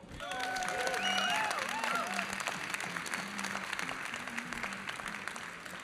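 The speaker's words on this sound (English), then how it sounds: "you give each other, I hope, a big round of applause" Audience applause at the Next Bite 2024 food system plenary in Rome, a steady, dense wash of clapping filling the hall while a voice speaks over it.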